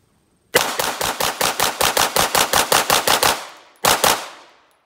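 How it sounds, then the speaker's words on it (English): Rapid controlled mag dump from a Sig Sauer P320 9mm pistol at an outdoor range, about 12 yards to the target: a loud, close string of about fourteen evenly spaced shots, a brief pause, then one or two final shots ringing out. "Gonna be a controlled mag dump, just to kind of see at about 12 yards here"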